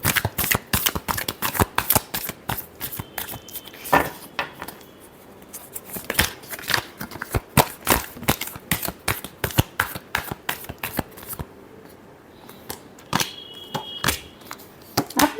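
Tarot cards shuffled by hand in a long run of quick riffling bursts and flutters, crisp and close, with a few brief pauses between rounds; no one speaks.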